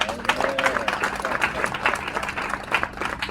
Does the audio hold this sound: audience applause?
yes